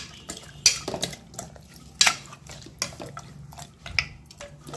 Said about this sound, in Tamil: இப்போ இந்த இஞ்சி பூண்டு கறி உப்புகள்லாம் மிக்ஸ் ஆகிற மாதிரி கிண்டி வச்சுக்கலாம்